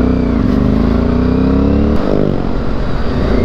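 Modified Yamaha Byson motorcycle engine revving loud and close, a steady rising growl that dips briefly near the two-second mark, then picks back up.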